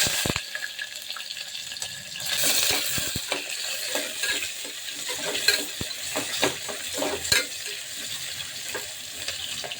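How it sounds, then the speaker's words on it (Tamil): Onions stir and sizzle in a hot pan while cooking biryani at home, with a spatula scraping and clattering intermittently over a steady frying hiss, close by and fairly quiet. "வெங்காயம் ஒரு 2 நிமிஷம் வதங்கட்டும்"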